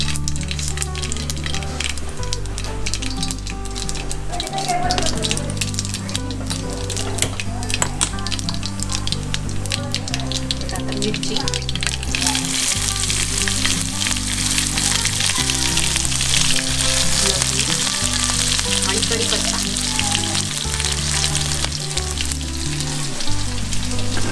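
A tempering for pithla hits hot oil over a wood-fired clay stove at a farm party, giving a loud, continuous crackling sizzle that swells brighter about halfway through, over a steady low rumble.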